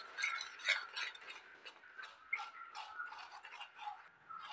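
Flour batter being stirred with warm milk in a bowl, giving soft, quiet scraping and light clinks of a utensil against the bowl in a steady, irregular rhythm, close and faint with no voices.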